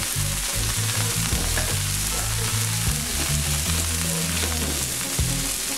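Salmon fillets sizzle steadily in a hot frying pan just after being flipped, a continuous close crackling fry with no talk over it.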